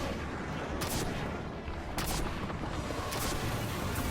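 Rockets fire at a boss in Destiny 2 during a prestige Nightfall fight, heavy blasts landing roughly every second over a dense, constant roar of combat noise, with no talking.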